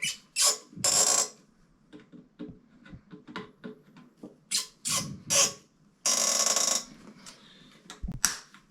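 Bolts being tightened on a new American Standard toilet during installation: a series of short, close mechanical clicks and ratcheting bursts, some louder rasping turns, with quiet gaps between.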